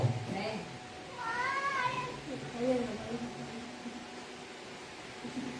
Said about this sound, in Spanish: No sé si hay un gatito ahí que escuché.